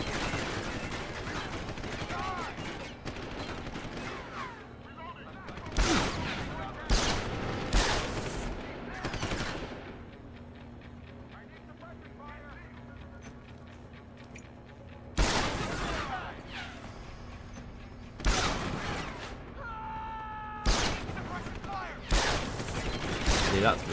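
Bursts of gunfire in Deus Ex: Human Revolution, several loud volleys of shots in clusters separated by quieter stretches of game ambience and faint mechanical noise.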